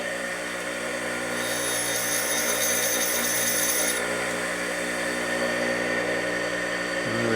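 A power tool grinds on a Harley Sportster transmission part during a 1961 XLCH rebuild, giving a steady loud whirring hum with a sharp high whine for the first few seconds.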